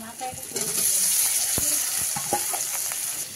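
Boiled taro hitting hot oil already fried with onion, garlic, slit green chilli and five-spice, sizzling steadily close up with a few scraping stirs, no talk.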